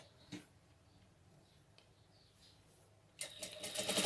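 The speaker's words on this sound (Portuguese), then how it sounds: "vou passar uma costura reta unindo os dois" A sewing machine runs a straight seam joining a fabric band to a doll-style dress skirt. It comes in near the end after near silence, a close, loud, steady mechanical whir.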